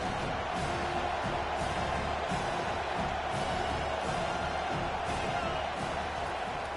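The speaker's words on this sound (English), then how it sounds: "This crowd knows when to bring it." A football stadium crowd roars steadily, a dense, continuous wash of cheering and noise that stays even throughout and is heard from a distance.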